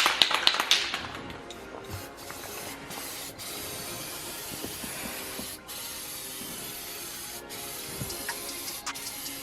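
Aerosol can spraying leather repair onto a ripped leather seat of an Acura RSX, a steady continuous hiss lasting several seconds with a brief louder burst at the start and a few short breaks.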